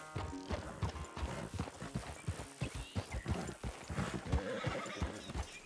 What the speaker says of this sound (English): Damn horse acting up on me of all the times.